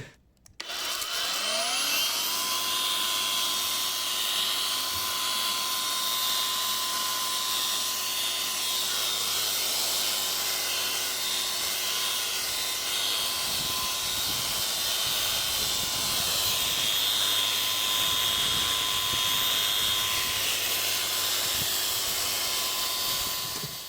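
A loud, steady high-pitched whine and rushing hiss of a blower attachment on a mains-powered angle grinder running continuously, with a sustained tonal hum and no talking.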